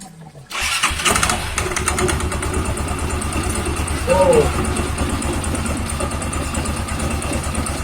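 Motorcycle with a CVT transmission, recently fitted with a new one-way clutch, starts up and settles into a steady, fairly loud idle heard close by, with people talking over the engine.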